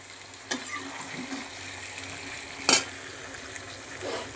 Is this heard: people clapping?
no